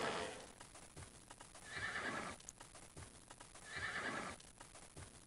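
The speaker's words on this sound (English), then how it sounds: "Hitch up the horses." Horse neighing and whinnying in the game Might & Magic 6 as the horses are hitched up, two loud whinny bursts over a busy bed of clip-clop hooves and ambient noise, with no talking.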